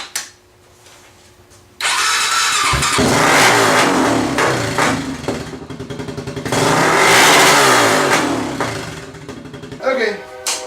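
A Honda TRX400ex ATV with a freshly adjusted carburetor fires up after a few cranks and revs unevenly, its engine surging loud and close, then sputtering and dying.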